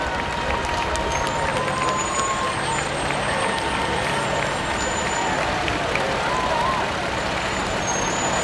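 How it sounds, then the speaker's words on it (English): Fire trucks of a fire company rolling past in an Independence Day parade, a steady broadband rumble of engines and road noise with occasional high squeals, crowd sounds and distant voices mixed throughout. "This is a phenomenal fleet of trucks with a phenomenal fleet of guys driving it."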